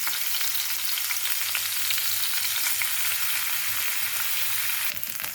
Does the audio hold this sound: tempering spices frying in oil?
yes